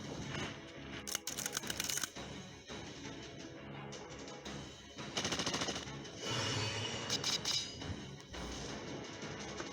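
Gunfire from a Fate/Grand Order game scene: quick rattling volleys and sharp clicking bursts at moderate level, with brief pauses and a steady musical background running underneath.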